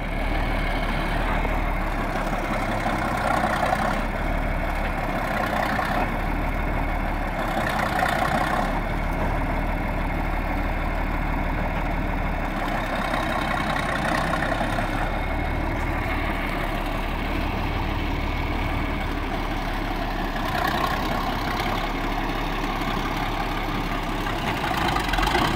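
A John Deere 5020 tractor engine runs steadily while pushing deadfall, a loud, continuous low diesel drone with slight rises and dips in load, close by with no talk.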